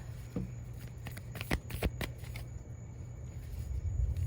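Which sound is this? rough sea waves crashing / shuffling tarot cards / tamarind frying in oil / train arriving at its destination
shuffling tarot cards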